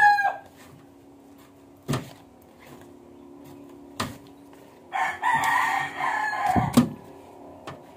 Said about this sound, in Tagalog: Ang ano lang dito sa pagbibideo, maraming manok.